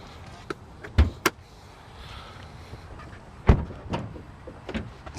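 Front trunk latch on a 2023 Audi e-tron S Sportback releasing, heard as a few sharp close clicks and clunks, one louder thunk midway, over quiet background.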